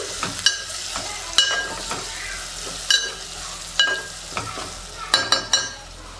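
Egg curry stirred in a frying pan, with spoon scrapes and knocks against the pan at uneven intervals over a soft, steady sizzle. The knocks fall close together near the end.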